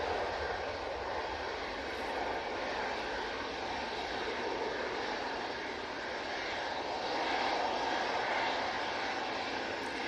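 A Ryanair jet at Manchester Airport with blue winglets, its engines giving a steady broad roar that swells slightly toward the end, sustained and fairly distant, with no talk over it.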